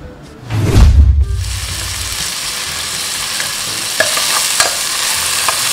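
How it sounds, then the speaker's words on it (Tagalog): Onion, garlic and tomato hitting hot oil and sautéing in a pan for sinigang tilapia: a loud burst of sizzle as they go in, then a steady close hiss with occasional stirring scrapes. "igigisa na po natin muna yung ating mga gulay"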